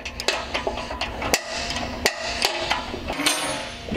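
Metal wrench clanks and taps while removing the center pin bolt on a Kubota BX tractor's quick-tach, several sharp knocks spread over a few seconds, close and loud.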